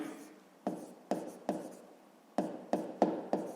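Hand writing out a 5th-grade math exercise, a series of close, crisp pen or chalk strokes in an irregular rhythm, each starting sharply and fading, with no talking.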